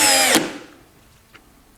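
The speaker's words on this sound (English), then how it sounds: "Checking out the DCA 20-volt cordless drill." A DCA 20-volt cordless drill spins up with a loud, close whir for about a third of a second and then cuts off, leaving near silence with a couple of faint clicks.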